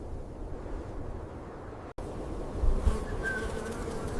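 Bees in a tomato greenhouse give a soft, steady low buzz with faint wind-like hiss, briefly cut by a short dropout before the drone resumes, alone without talk.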